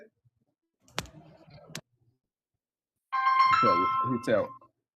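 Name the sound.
phone ringing with an incoming call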